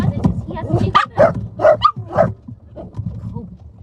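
Several excited dogs barking in short bursts near a table, a run of about five sharp barks at moderate loudness, with a person talking in the background.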